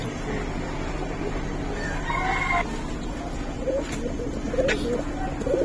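Silver-coloured Giribaz pigeons coo and call in a dense, steady chorus at a pigeon sale, with other fowl calls mixed in and brief louder calls near the end.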